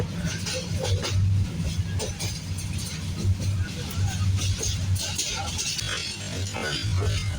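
Inside a passenger train running through green countryside after leaving Kamalapur railway station, a steady low rolling rumble continues throughout with faint rattles and clatter over it.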